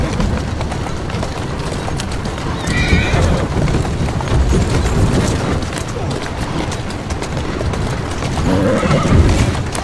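A horse in the video game Assassin's Creed Syndicate gallops with loud, continuous clip-clop hoofbeats and lets out whinnies and neighs over them, with a voice talking in the mix.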